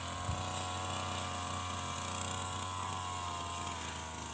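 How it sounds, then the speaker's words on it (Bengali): Grass-cutting machine mowing grass on a farm field in Brunei, a steady, fairly faint motor drone running continuously without pause or speech. "আরেকবার ঘাস করতেছে মেশিন দিয়ে"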